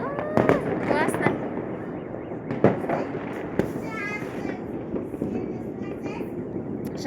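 Fireworks salutes burst outdoors in a series of sharp, irregular cracks and pops, some near and some farther off, while people talk and call out over the explosions.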